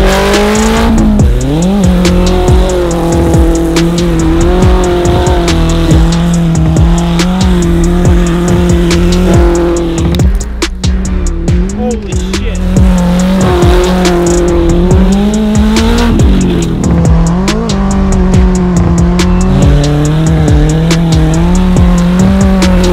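A Polaris Slingshot being driven off-road roars loudly and continuously, its engine pitch swinging up and down as it revs, with squealing tires mixed into the close, unbroken noise.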